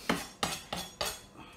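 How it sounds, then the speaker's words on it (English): Garlic crushed with the flat side of a knife on a board, four sharp, close knocks in quick succession, quiet and alone. "I'm gonna crush this garlic"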